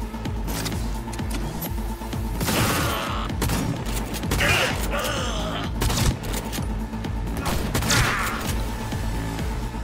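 Gunfire in the video game Cyberpunk 2077 crackles in dense bursts across a busy, loud game mix, with heavy low rumble and a few sharper shots standing out.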